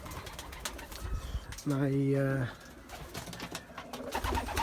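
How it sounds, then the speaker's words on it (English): A pigeon coos clearly for under a second in a stock loft of racing pigeons, a soft rolling call close by, set between stretches of someone talking. "this is my block loft, which is where the stock pigeons are."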